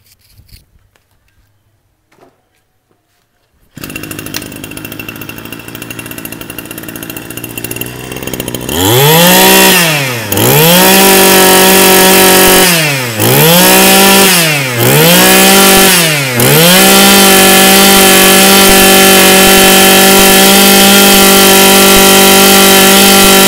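A Japanese Lativo HM23 petrol grass trimmer engine is pull-started after a quiet stretch, then it sputters and revs loudly several times in rising and falling bursts before settling into a steady, close, buzzing run.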